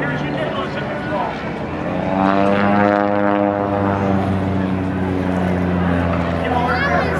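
A propeller airplane passes overhead at the Battle Creek Field of Flight airshow, its droning engine rising and then falling away while people talk nearby.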